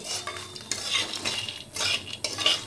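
A utensil stirs and scrapes puffed makhana frying in butter with salt and cumin in a hot kadai, producing soft irregular scraping and rattling strokes over a faint sizzle, close up and with no talking.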